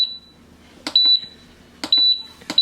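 Nuwave pressure cooker control panel beeping as its buttons are pressed, three short high electronic tones spaced about a second apart, each preceded by a soft press click, close and clear.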